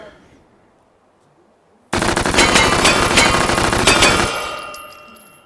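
An MP5 submachine gun in the VR game Hot Dogs, Horseshoes and Hand Grenades fires a loud, rapid sustained burst of about two and a half seconds, then the echo dies away.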